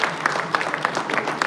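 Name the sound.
applause from the audience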